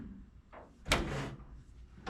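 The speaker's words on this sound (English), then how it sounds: "the door pops open on its own" The door of a Factory Five 35 hot rod truck unlatches and pops open on its own with a single sharp clunk, followed by a short airy rustle and a faint tap at the end.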